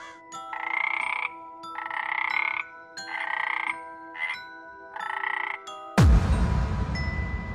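A cartoon frog croaks in five repeated bursts with short pauses between, clear and close, followed by a sudden loud crash.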